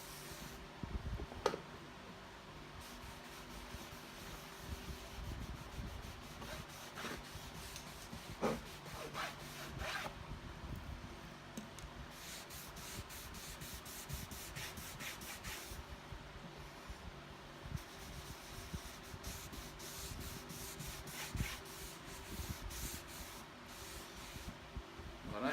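Finish is rubbed by hand onto a wooden crosscut sled built for a DeWALT 7491XE table saw, a soft, quiet swishing and scrubbing of cloth on wood in repeated strokes with occasional light knocks.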